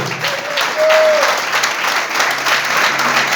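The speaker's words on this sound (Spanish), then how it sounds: "Aplauda al que vive." A church congregation claps steadily and loudly throughout a brief few seconds, a dense wash of hands with a faint voice underneath.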